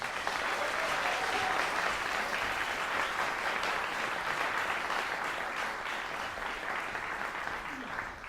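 Audience applause greets a young chamber music group at a musicians competition. It is loud and steady from start to finish and tapers slightly at the end.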